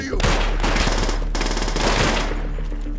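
Rapid bursts of automatic gunfire in the video game Call of Duty: World at War, loud and continuous, with dense rattling shots over a heavy low-end rumble.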